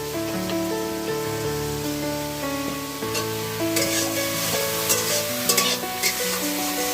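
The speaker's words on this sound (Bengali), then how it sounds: "উনুনে রান্না করতেছেন মাছের ঝোল নাকি ডিমের ঝোল" Egg curry bubbles and sizzles in a pot on a clay stove, a continuous frying hiss with scattered crackles running under prominent background music.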